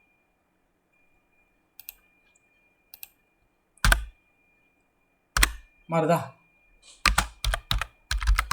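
Typing on a computer keyboard while coding a React to-do app: scattered single key clicks, then quicker bursts of several keystrokes, close and crisp, with a brief spoken word in the middle.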